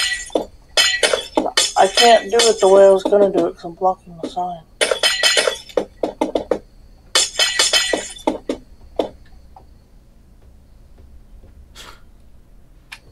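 Glass blocks breaking in Minecraft, sharp crisp shattering and clinking sounds that come in quick repeated bursts, heard under and between a man's close, loud speech and then tailing off into quiet.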